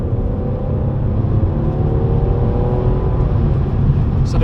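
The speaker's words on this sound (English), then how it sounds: "how the car sounds in comfort mode" Mercedes C43 engine in comfort mode with exhaust valves closed, a loud, steady, muted drone and rumble as the car pulls, with faint rising engine tones and no talk.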